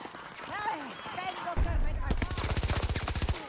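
Automatic gunfire in Battlefield 2042 rattles off as a rapid burst of about twenty shots during the last two seconds, loud and close, while a player talks throughout.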